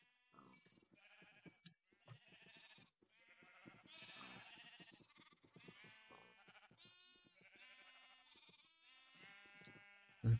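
Sheep bleating in Minecraft with the FTB Infinity modpack, a flock giving many overlapping wavering bleats in quick succession, fairly close and steady throughout with brief gaps between calls.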